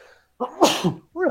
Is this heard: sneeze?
yes